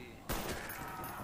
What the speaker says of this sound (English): now I get a sniper rifle!